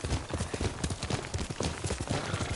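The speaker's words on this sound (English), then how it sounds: "Yuriko's horse." Hooves clip-clop steadily on the ground as Yuriko's horse walks in the Ghost of Tsushima video game, a close, even rhythm of hoofbeats with no talk.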